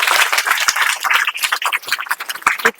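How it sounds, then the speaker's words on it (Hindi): An audience claps together at a coaching-class gathering, a dense, steady burst of applause lasting a few seconds, loud and close, with no talk over it. "चलो ठीक है, ताली बजा दीजिए एक बार"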